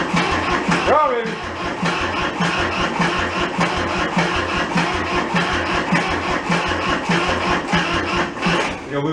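A thrashed Kubota diesel tractor engine cranks briefly and catches, then settles into a loud, close, rhythmic chugging idle with a heavy pulsing beat, while a person talks over it.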